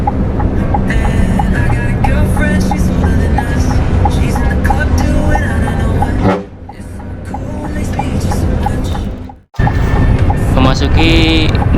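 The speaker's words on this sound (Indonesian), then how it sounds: "Bus dipacu cukup cepat karena daerahnya yang landai dan kendaraan-kendaraan yang kecil itu sudah mulai berkurang" Scania intercity bus speeding along a highway: a loud, steady engine and road roar that briefly drops and cuts out before returning, with someone narrating over it.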